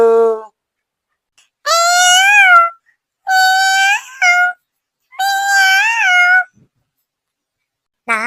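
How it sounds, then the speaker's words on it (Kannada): A kitten meows loudly and close by, giving four drawn-out cries separated by short silences, with the start of another cry at the very end and no talking. "ಈ ಬೆಕ್ಕನ್ ಮರಿ ಇನ್ಮ್ಯಾಗ ನನ್ ಜೊತೆಗ ಇರ್ಲಿ"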